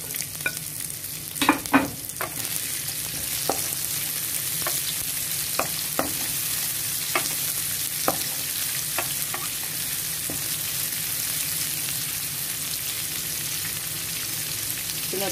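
Onion sizzling steadily in a hot pan while cooking pancit canton with chicken and shrimp, a continuous frying hiss broken by occasional stirring scrapes and clinks, near and alone.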